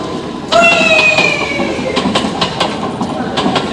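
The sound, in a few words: train running on rails in stage play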